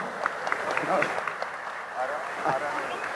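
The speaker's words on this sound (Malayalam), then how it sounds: "നിറഞ്ഞ കയ്യടികളോടെ" A crowd at an Onam inauguration ceremony claps in sustained, even applause, with voices audible over it throughout.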